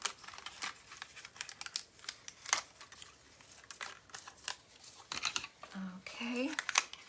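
Tape is peeled off paper card pieces in quick, close crinkly pulls and ticks that stop and start over several seconds, with a voice briefly heard near the end.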